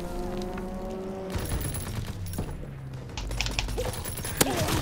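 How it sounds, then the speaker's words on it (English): Rapid machine-gun fire from a strafing run in a WWII video game, dense bursts of shots over a droning engine tone, with a sharper crack near the end. "Strafing run inbound."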